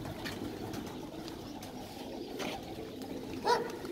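Wide-tailed pigeons at a breeding loft give soft, low coos under steady outdoor background noise, and a short flutter of wings breaks in near the end.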